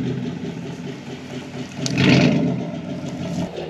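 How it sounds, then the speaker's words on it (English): Truck engine running loudly while backing up, a steady rumble that swells briefly in the middle with a rev before settling, no talk over it. "The truck is so loud, even in just reverse."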